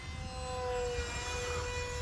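A Hobbyzone Aeroscout RC plane flies overhead, its small electric motor giving a steady, whining drone with a sustained tone, moderately loud and unbroken, with no voices.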